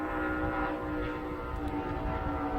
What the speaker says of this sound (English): You can hear the engines in that boat.